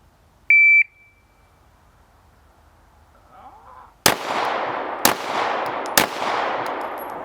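Three handgun shots, fired with the dominant hand only at about one-second intervals, crack sharply and loudly, each followed by a reverberant tail. A short electronic start beep sounds near the beginning, and faint rustling is heard before the first shot.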